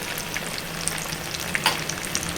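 Chicken pakodi deep-frying in plenty of oil, a steady dense crackling sizzle with small pops, close and continuous.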